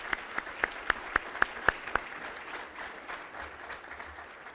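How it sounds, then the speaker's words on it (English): At an awards event for behavioral health professionals, an audience applauds, a bright run of about eight distinct near claps riding over a soft spread of scattered clapping from the room. "Can we give them a round of applause"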